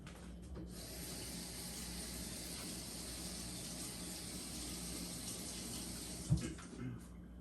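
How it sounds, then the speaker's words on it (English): Running sink water streams steadily from a tap while a dye dropper is rinsed beneath it, with a brief clatter near the end. "I gotta go rinse out my dropper again"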